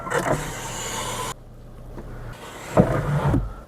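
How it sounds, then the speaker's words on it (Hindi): An MG Astor's electric sunroof motor runs inside the car, a steady mechanical whir that stops abruptly partway through, followed by clunks and a louder burst of movement near the end. "अब अगर मैं इसको दबाऊंगा तो मेरी सनरूफ ओपन होगी।"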